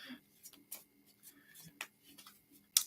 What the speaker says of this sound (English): Just shuffling these cards.